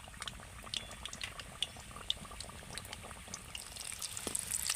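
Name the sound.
deep frying stuffed snack in oil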